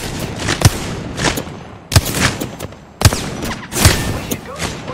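Gunfire in Apex Legends arrives as loud, sharp reports at roughly one-second intervals, each trailing into noisy decay.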